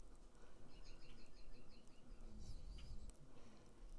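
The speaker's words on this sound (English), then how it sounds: "I have my window open, so you might hear some birds chirping outside." Faint birds chirp in short repeated trills over a low background hum, distant and soft as if heard through an open window.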